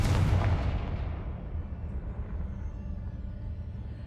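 A Confringo fire spell blast in Hogwarts Legacy erupts in a loud booming burst at the start, then leaves a long rumbling, crackling tail that slowly fades without any voices.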